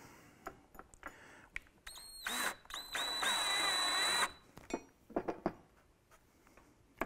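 A power drill whines in short bursts then runs steadily for a couple of seconds driving a self-tapping screw into a Mustang rear spoiler, surrounded by clicks and handling knocks.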